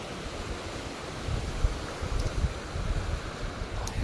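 Steady rushing river water fills the scene, a broad continuous wash with gusts of wind noise swelling and fading.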